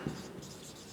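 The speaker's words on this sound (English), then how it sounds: "let me write it here" Marker or chalk writing on a classroom board during a physics lecture, a brief continuous scratchy stroke with a light tap at the start, close and moderately quiet.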